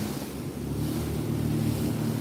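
Waves wash through shallow water during a Sea-Doo ride among the 10,000 Islands, a steady rushing roar mixed with wind buffeting the microphone and the hum of the watercraft, with no talking.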